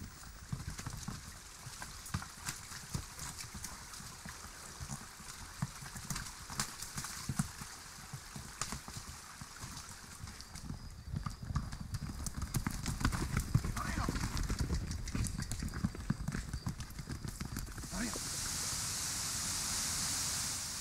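Horses on a riding trek in the Dominican Republic toward the El Limón waterfall, hooves clip-clopping steadily and close under a voice speaking, with rushing water rising toward the end.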